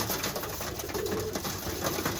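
Young Birmingham Roller pigeons, kit birds a few days weaned, coo softly and continuously at close range.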